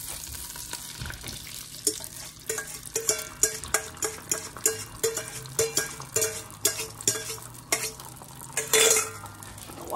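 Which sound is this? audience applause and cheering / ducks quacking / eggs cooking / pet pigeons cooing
eggs cooking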